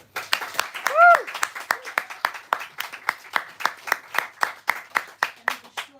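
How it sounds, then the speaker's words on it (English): At an open mic poetry night, a small audience claps, starting as scattered overlapping claps and settling into one steady rhythmic clap at about two per second. A brief voice rises over the start. "big round of applause for Georgia."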